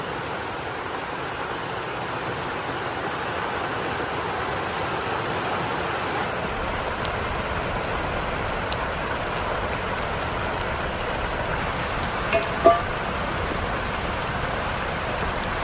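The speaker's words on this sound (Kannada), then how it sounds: "ಮಳೆ ಕೂಡ ಜೋರು ಬರ್ತಾ ಉಂಟು ನೋಡಿ" Dense, steady rain hisses continuously throughout, loud and even, with a few faint clicks and knocks near the end.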